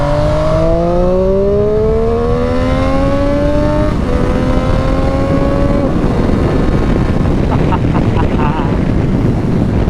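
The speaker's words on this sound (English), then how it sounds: "A lovely little induction noise. This gives you a little rasp on the exhaust as you go through the rev range" 2019 Triumph Street Triple 765 motorcycle on the road, engine note climbing through the rev range with rising induction howl and exhaust rasp, a gear change, then steady wind-buffeted riding noise up close.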